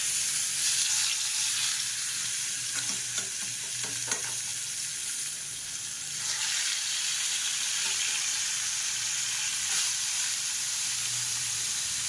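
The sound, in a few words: fish frying in a pan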